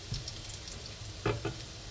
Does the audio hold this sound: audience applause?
no